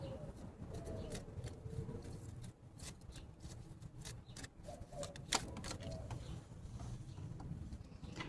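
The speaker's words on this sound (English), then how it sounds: "Go away, bird." A pigeon or dove coos faintly nearby in a quiet outdoor setting, soft repeated low calls mixed with scattered clicks and rustling background noise.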